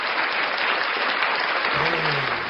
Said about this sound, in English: we're gonna give him an applause for that